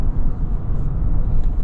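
Low, steady engine rumble from a 2022 Cadillac Escalade with a 6.2 liter V8 driving in sport mode during a handling test, heard from inside the cabin as a continuous drone with no voices.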